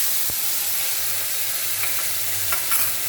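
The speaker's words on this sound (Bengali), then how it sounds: "কড়াইতে আমি ফোড়নের জন্য সাদা জিরে, শুকনো লঙ্কা ও তেজপাতা দিয়ে দিয়েছি।" Cumin seeds, dried red chillies and bay leaves sizzle in hot oil in a wok, a soft steady crackle with a few brief stirring scrapes and no voices.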